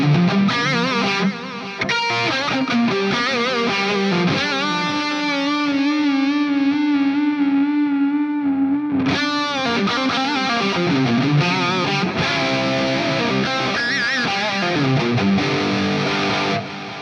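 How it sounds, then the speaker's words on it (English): Soldano X99 amp model on an Axe Fx playing a lead tone with delay and reverb, a distorted electric guitar line of sustained notes and bends running continuously and loud throughout. "if we have a listen to the X99 on those lead settings, I'll leave the delay and reverb on"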